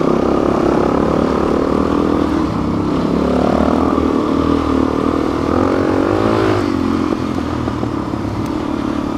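A motorcycle engine on a Rampart trail ride, loud and close throughout, with a continuous rough drone that rises and falls slightly as the rider works the throttle.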